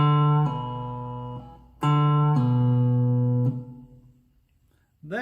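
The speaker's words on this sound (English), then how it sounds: "you're going to do a pull off, which is just pull your finger to the side and release the string" A cigar box guitar sounds clear plucked notes that ring and decay, with a pull-off dropping a fretted tone back to the open string, then a fresh attack at the end.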